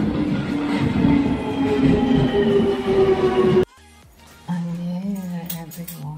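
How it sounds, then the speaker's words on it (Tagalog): Close and loud, a train comes into an Aldgate station in the UK, with a steady rumble of wheels and tonal whine. Then comes a brief quiet gap, and after it an interior hum with faint squeals. "My train is here."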